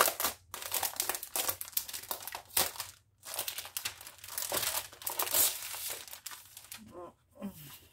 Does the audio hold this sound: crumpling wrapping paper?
yes